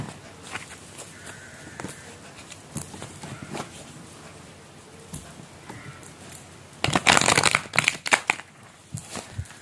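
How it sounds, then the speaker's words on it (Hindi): Tarot cards being mixed by hand, with soft irregular riffles and taps that build into a louder burst of rapid shuffling near the end, close and alone. "कार्ड्स को हम थोड़ा सा मिक्स कर लेते हैं"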